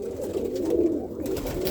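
Roller pigeons cooing in a loft of breeding birds, a soft continuous low murmur of several birds close by, steady with no talk.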